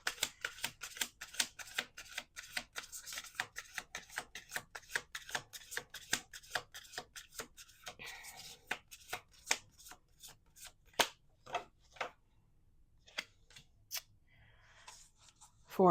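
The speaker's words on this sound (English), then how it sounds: "Let's do 1 more shuffle." Rapid riffling clicks of cards being shuffled, in several bursts with short pauses between them.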